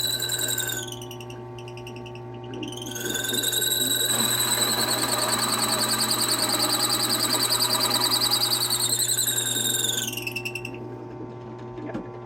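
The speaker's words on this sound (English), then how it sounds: "Drilled about halfway through. The hole goes all the way through." A power drill boring a hole through metal in a home shop, a piercing high whine that rises as the bit bites in, holds steady for several seconds, then winds down, with a constant background hum throughout.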